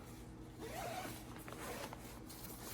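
A zipper drawn shut on a film-changing dark bag, a close, quiet scratchy rasp in a couple of pulls against faint room hiss, with no talking.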